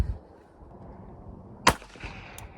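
A Beretta Tomcat .32 ACP pistol with a short 2-inch barrel fires one sharp, fairly loud shot at a range amid low background noise, with a brief echo trailing after.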